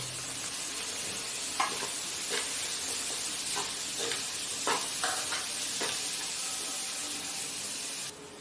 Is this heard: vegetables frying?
yes